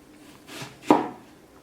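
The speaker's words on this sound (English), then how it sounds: "So now we're gonna chop up our onion." An onion chopped on a board for Thai fried egg tofu: two knife strokes, the second a sharp, loud thud, close up in a quiet room.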